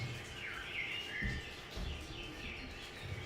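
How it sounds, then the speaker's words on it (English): Birds chirp and tweet in an otherwise quiet outdoor setting, short bright calls repeating softly over a low background hum, with no one speaking. "But maybe you hear some birds."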